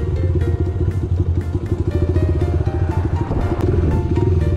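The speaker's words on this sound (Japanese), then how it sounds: "相変わらずマフラーの音はでかいね、やっぱり。" An 88cc custom 2022 Honda Monkey engine rumbles loudly through a throaty, loud muffler, idling with a rapid, uneven burble close by, no voices.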